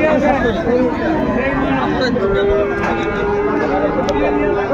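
Long, wavering moos from a young Sahiwal bull calf at a livestock market sound close and clear, layered under a constant hubbub of nearby voices.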